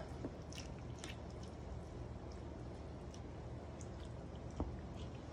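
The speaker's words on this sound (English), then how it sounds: "It's still bubbling up, trying to get the air bubbles out." Faint, steady fizzing with occasional tiny pops and drips from air bubbles rising in a canning jar of zucchini and squash relish, close by and quiet, no voices.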